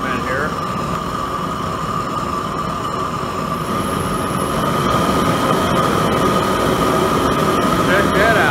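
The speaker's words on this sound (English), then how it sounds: "This thing makes a great propane burner too." A high-velocity forge burner runs on propane with a loud, constant roaring hiss and a steady tonal drone, swelling slightly partway through, close and continuous.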